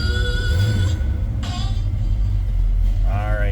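1974 Pontiac Trans Am with a 455 V8 idling after a cold start, a steady low rumble running throughout while other tonal sounds come and go above it.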